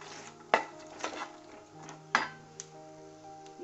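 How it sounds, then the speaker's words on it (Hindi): Makhana (fox nuts) being quickly stirred in a roasting pan, with a utensil clinking and scraping against the metal in a few sharp knocks amid a soft rustle of the nuts. "तो हम इसमें अपने मखाने डालेंगे और इसे देंगे क्विक स्टर"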